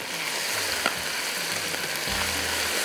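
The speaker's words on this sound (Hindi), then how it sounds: "अब थोड़ी इसकी भुनाई करेंगे।" Whole mace, nutmeg and star anise dry-roasting in a pan give a steady, close sizzle with a few soft stirring scrapes, and no one speaks.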